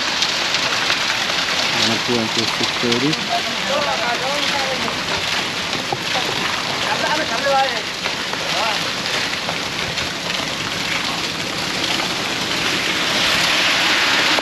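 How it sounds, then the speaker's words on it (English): Steady rain patters on surfaces at a villa on Koh Samui, a constant hiss with people talking over it in the foreground while pouring concrete. "it's a little bit raining"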